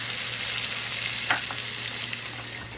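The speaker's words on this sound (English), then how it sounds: "Stir the curry and the scallion to bring out the flavor." Curry powder and scallion frying in a pot for Jamaican curry goat give a steady, close sizzling hiss, with a single scrape of stirring partway through and a low hum beneath.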